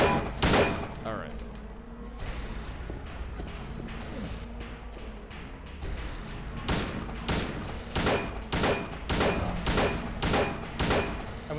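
Repeated gunshots from a firearm in the survival horror game Silent Hill 2, a burst of about a dozen sharp reports firing in quick succession over a dark ambient game soundscape, with a voice talking faintly underneath.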